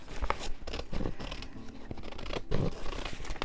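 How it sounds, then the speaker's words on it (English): Scissors snip across the bottom of a paper envelope, a close, steady run of crisp cutting and rustling paper with no voices. "And I'm going to cut off the bottom."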